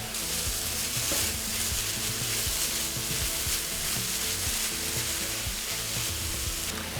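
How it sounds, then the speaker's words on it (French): Chestnuts and mushrooms sauté in a pan over high heat, a dense, loud, continuous sizzle that holds steady throughout with no pauses or talk. "Je les fais revenir pendant environ 3 minutes sur feu vif"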